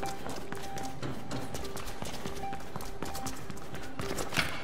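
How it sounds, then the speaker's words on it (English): Running footsteps in the video game Mirror's Edge Catalyst, a fast, steady patter of loud close footfalls over game ambience and music. "when she runs, I hear the footsteps pretty loudly"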